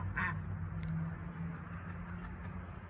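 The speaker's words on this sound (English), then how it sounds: "And Mocha herding the ducks and chickens" Ducks quack faintly in the distance on a small farm as ducks and chickens are herded, a few short calls early on, over a low steady background hum.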